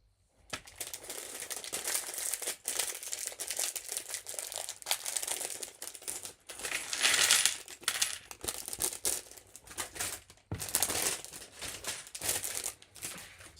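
Lego plastic bags are handled and torn open, giving continuous close crinkling and crumpling with sharp rips and rustles across the whole stretch, with no talk.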